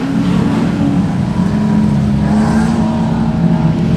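A production sedan race car roars continuously around the dirt oval at Kingaroy Speedway during a heat race, its engine loud and steady with a sustained droning growl throughout.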